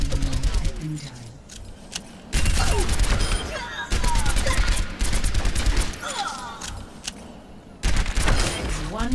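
Weapon fire from an Overwatch training session: bursts of rapid shots in clustered volleys, loud and close, separated by short quieter gaps with game sounds and a voice talking over parts.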